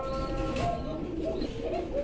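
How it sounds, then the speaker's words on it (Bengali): A fancy mini-colour Rajgolla pigeon coos softly in a few low, rolling phrases over a steady background murmur, close by and moderately loud. "ভাই এক পিস কবুতর দেখাইতেছেন"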